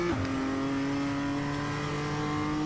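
A BMW M2 race car on a circuit accelerates hard, its engine note rising sharply and then holding a loud, steady high-revving drone for a couple of seconds with no talk.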